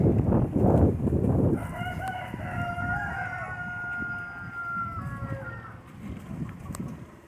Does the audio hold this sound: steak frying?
no